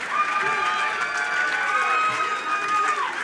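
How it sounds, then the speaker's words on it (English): Crowd at a wrestling show applauding and cheering, a dense sustained wash of claps with a voice carrying over the top. "Give yourselves a big round of applause."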